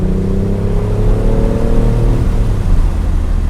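A BMW i8 Roadster's 1.5-liter three-cylinder engine accelerates with a loud, continuous low drone and rising revs, heard close and alone without any talking.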